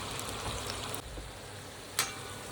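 Spring onion bhaji fritters bubble in hot oil with a steady soft sizzling hiss, a brief clink near the end, no speech.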